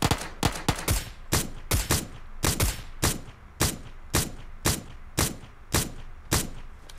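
Single gunshots fired in PUBG Mobile ring out in a steady series, about fifteen sharp, loud cracks spaced roughly half a second apart, each trailing off briefly, with no talking.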